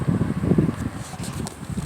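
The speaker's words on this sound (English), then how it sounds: "It's always windy up here, I guess, because of the elevation, maybe." Steady gusting wind buffets the microphone at an elevated garden in Butte, Montana, with a low, rough rumble throughout, with no talking.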